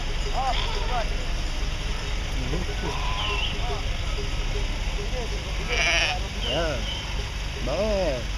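Sheep bleat repeatedly outdoors, several wavering calls spread across the stretch, some near and some farther off, with people's voices mixed in.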